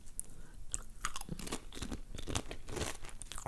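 Sun Chips being crunched and chewed close up, a steady run of sharp, brittle snaps and mouth sounds with no talking.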